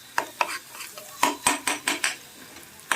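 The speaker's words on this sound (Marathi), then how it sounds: "मसाला फ्राय होतोय" Masala frying in oil for dhaba-style matar paneer, with a spatula striking and scraping the pan in a series of distinct knocks under a faint sizzle, close and without talk.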